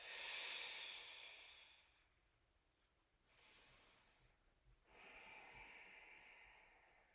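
Long, airy breaths during a yoga class: a strong hissing exhale, a pause, then two more softer breaths, close and alone without speech.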